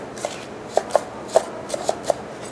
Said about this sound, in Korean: 대파는 어슷썰기를 할 거거든요